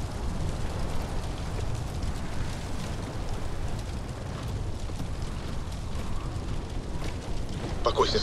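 Steady rain falls in the video game Call of Duty Infinite Warfare. It makes a continuous, even hiss that lasts the whole stretch, with a few brighter crackles near the end.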